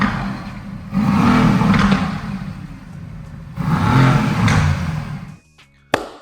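A warmed-up Mercedes-AMG GTC engine revs twice, each burst swelling loud and close with a rough, throaty roar before easing to a steady idle; a sharp click lands near the end as the engine drops away.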